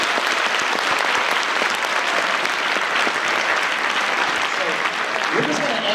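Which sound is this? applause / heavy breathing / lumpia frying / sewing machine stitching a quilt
applause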